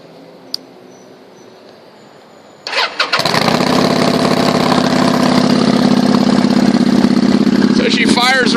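A Kawasaki Vulcan 800 motorcycle engine with 16,000 miles cranks and fires up, then settles into a steady, loud idle close by.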